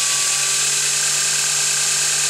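A DSM fish mouth tube notcher motor spins steadily at about 2,000 RPM, giving a continuous high-pitched whine with a fixed hum that stays even and unchanging throughout.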